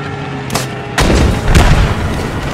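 A destroyed Panzer III tank explodes in the video game Post Scriptum: a sharp blast, then a second heavy boom about half a second later, followed by a loud, sustained rumbling roar that lingers to the end.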